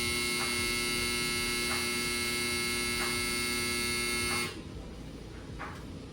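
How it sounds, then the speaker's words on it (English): A hair dryer drones nearby in a steady tonal buzz broken by short regular blips, then cuts off abruptly, leaving a quieter background. "My dryer is so annoying."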